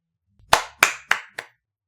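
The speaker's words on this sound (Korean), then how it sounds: "자기도 모르게 박수가 나왔어." A pair of hands claps four times at an even, brisk pace, each clap crisp and close, with silence before and after.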